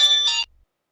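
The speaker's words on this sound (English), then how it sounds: "Oh goodness, my phone." A mobile phone ringtone sounds, a short bright electronic melodic burst, close and loud, cut off after half a second and followed by silence.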